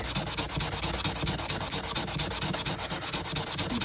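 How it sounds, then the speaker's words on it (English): A scout knife blade is rubbed with coarse 220 or 320 grit sandpaper, a rapid, even back-and-forth rasping stroke repeating close up without pause. "And I'm using a pretty aggressive sandpaper."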